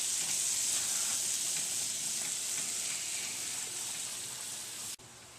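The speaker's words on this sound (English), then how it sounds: "We're also going to cook this butter down just a little bit and make it brown." Butter with flour roux for a demi-glace fries in a pan as it browns, giving a loud, dense, continuous sizzling hiss that cuts off abruptly near the end.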